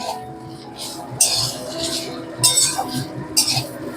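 Potato and bitter gourd with grated coconut frying in a pan while being stirred, with a steady low sizzle and three sharp metallic clinks of the utensil against the pan at regular intervals.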